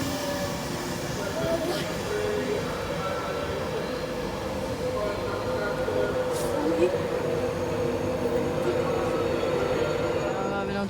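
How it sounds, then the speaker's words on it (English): At Newark Northgate platform 1, an LNER service from London King's Cross to Leeds formed of EMT HST power car 43075 rolls in with a steady, continuous rail rumble and wheel noise, faint voices in the background. "On to platform number 1 is the delayed 1323 LNER service from London King's Cross to Leeds using EMT HSTs 43075."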